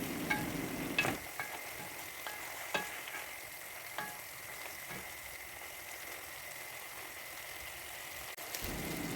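Large-cut onions fry for Uyghur lagman, giving a soft, steady sizzle with occasional utensil taps and crackles, fairly quiet and uninterrupted throughout.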